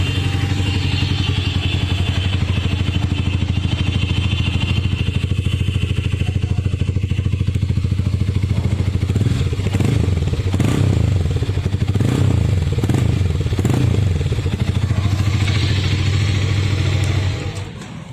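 A Harley-Davidson X440 single-cylinder motorcycle engine runs close by for the whole stretch. It holds a steady, thumping idle, with a few quick throttle blips in the middle before it settles and cuts off at the end.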